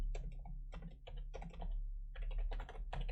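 Typing on a computer keyboard, rapid bursts of close key clicks with short pauses between them, heard alone over a low steady hum.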